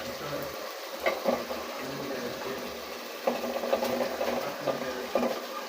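Fish frying in a spiced masala of turmeric, chili and cumin, a steady soft sizzle with a few louder bursts of stirring and crackle, fairly quiet and without speech.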